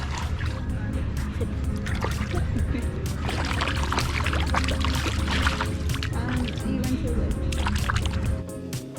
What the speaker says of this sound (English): Now, gotta wash those feet off.